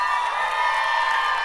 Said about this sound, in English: round of applause for this woman